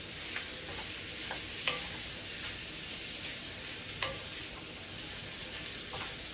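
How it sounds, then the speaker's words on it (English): Sausages sizzle steadily in a frying pan with a constant hiss, joined by a few soft clicks from stirring or turning. Nobody talks. "my sausages are cooking up really nice"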